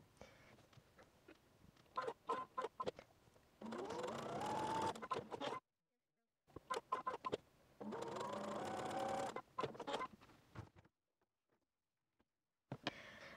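A sewing machine stitches quilt block pieces for a flag quilt block in two sustained bursts of close motor whirring, separated by quiet pauses and scattered light clicks.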